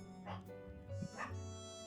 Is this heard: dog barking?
yes